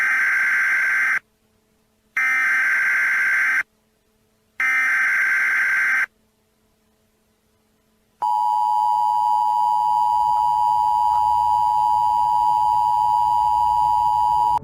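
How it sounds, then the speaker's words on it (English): Emergency broadcast system alert: three identical electronic beeps separated by short silences, followed after a pause by a long, steady, piercing two-tone attention signal that holds loudly to the end. "This is an activation of the emergency broadcast system."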